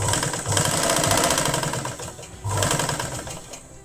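A sewing machine stitches lined kurti fabric, running in two steady mechanical bursts with a rapid chattering rhythm, close and loud, with a brief pause between them.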